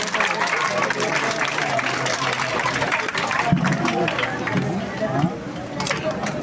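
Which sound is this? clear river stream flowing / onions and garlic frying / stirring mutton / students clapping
students clapping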